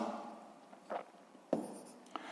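Pen strokes scratch across paper while a maths solution is written out, a few brief scribbles close by and quiet, with no talk.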